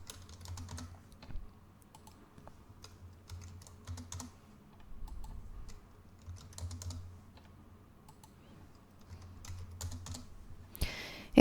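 Soft computer keyboard typing in scattered short bursts of light clicks, fairly faint, with a low background hum and no talking.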